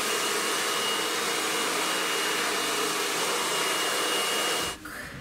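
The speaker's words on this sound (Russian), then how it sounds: "держи фен, и включается фен" A handheld hair dryer blows with a loud, steady, broadband roar for several seconds close by, then cuts off abruptly near the end.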